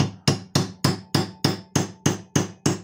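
A hammer drives a rod into a bearing hole packed with bread on a 1993 Honda CR 125R, ten sharp metallic blows at a steady, even rhythm, close and clear with no voices.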